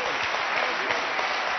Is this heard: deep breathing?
no